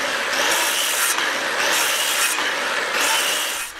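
A skill saw cuts notches 1.5 inches deep into wood while an outdoor workbench is being built, giving a loud, continuous rasping whine that swells and dips across several passes of the blade.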